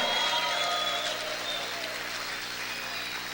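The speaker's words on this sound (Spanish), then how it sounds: "Vamos a gritar y vamos a aplaudir fuerte al Señor." A church congregation applauding and shouting, a loud wash of clapping and voices with a sustained tone ringing through, easing slightly in volume toward the end.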